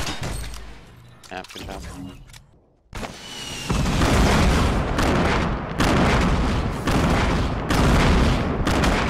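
Rapid bursts of gunfire and booming explosions from the video game Fortnite, loud and dense after a brief quieter stretch, with a player's voice briefly heard during the action.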